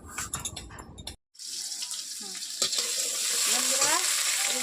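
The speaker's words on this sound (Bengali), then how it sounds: "আমার এদিকে সোয়াবিন ভাজা হয়ে গেছে।" Soybean chunks frying in hot oil while fish-curry potatoes are prepared alongside, giving a steady close sizzle with a brief silent gap and a few clinks, with no talking.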